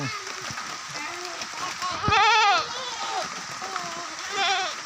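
A large goat on a mixed farm bleats loudly in a wavering, nasal call midway, with fainter bleats from other goats around it and someone speaking nearby.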